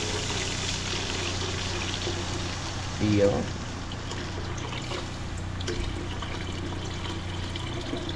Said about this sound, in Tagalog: Lagyan ng tubig ang lugaw.